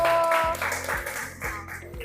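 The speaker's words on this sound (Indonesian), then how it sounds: "tepuk tangan untuk kelompok 1" Students in a classroom clap in a patterned rhythm for group 1 after their presentation, with short bursts of claps and some voices mixed in.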